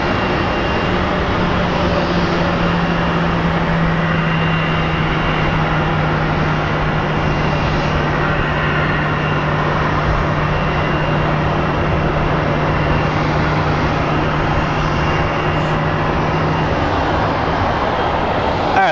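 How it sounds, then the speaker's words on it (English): An airliner coming in to land at Phoenix Sky Harbor airport, a loud, steady engine roar with a sustained low hum, close by and unbroken, with no talking. "let's go get that flight from Des Moines, Iowa coming in"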